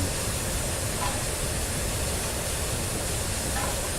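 The Flying Scotsman steam locomotive works hard over Shap, heard as a continuous loud roar of steam and rushing air from the footplate, with no distinct beats standing out.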